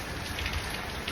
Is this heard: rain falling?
yes